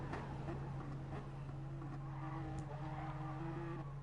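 Toyota LMP1 prototype race car in a racing video game, its engine held high near 8,500 RPM with a steady whining drone and faint tire noise, continuous and close throughout.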